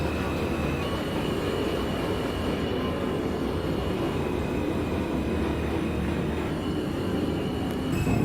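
An NYC Subway R160 train on the J line in the OpenBVE train simulator rolls along with a continuous rumble and rattle of wheels, a faint squeal threading through, steady and unbroken with no speech.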